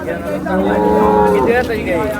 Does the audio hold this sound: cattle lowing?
yes